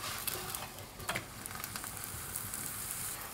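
Flatbread frying in a little oil in a hot pan, a steady close sizzle with small crackles and pops running throughout, no voices.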